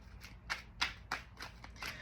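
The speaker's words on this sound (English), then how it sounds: "Let's shuffle these cards really good." Tarot cards being shuffled, a soft rhythmic series of quick riffling flicks and taps, close and quiet, with no voices.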